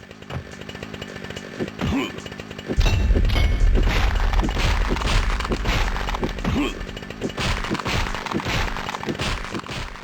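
The buzzing, revving chainsaw of a chainsaw-wielding enemy in Nightmare Creatures II roars up loudly a few seconds in and keeps snarling over heavy thuds and crashes from combat.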